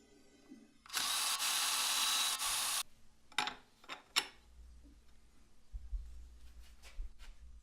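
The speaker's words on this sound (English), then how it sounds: "I'm going to go ahead and drill some holes and countersink them." A power drill whines loudly for about two seconds, then stops, followed by a few sharp knocks and faint low rumbling.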